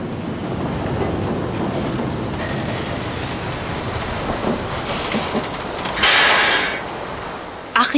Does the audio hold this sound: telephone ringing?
no